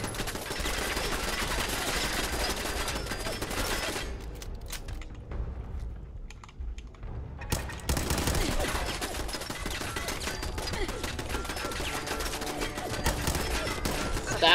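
Machine gun turrets in Fallout 4 fire in a loud, relentless stream of rapid automatic bursts that briefly thin out midway before resuming at full intensity.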